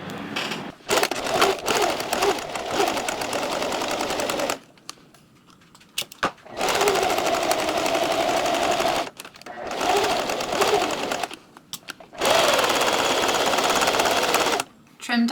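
A sewing machine stitches layers of a hat brim in steady, loud, rapid mechanical runs of a few seconds each, broken by short quiet pauses as the sewer stops and starts again.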